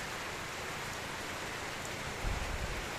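Steady rain pours down in a continuous hiss, with a slight low rumble rising near the end; no voices.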